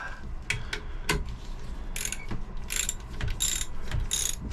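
Ratchet clicking while tightening an exhaust manifold fitting aboard a 1982 Catalina 30 sailboat, with several bursts of quick close ratcheting strokes separated by short pauses.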